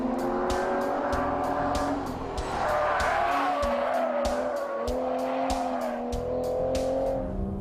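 An Aston Martin Vanquish with a naturally aspirated V12 driven hard: a loud, steady engine drone that climbs and falls with the revs, broken by regular sharp ticks and a high tire squeal.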